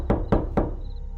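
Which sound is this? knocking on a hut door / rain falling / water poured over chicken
knocking on a hut door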